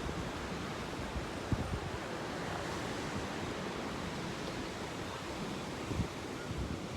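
Ocean waves wash steadily onto a beach, a continuous broad rushing surf with a few slightly louder swells, heard alone without talk.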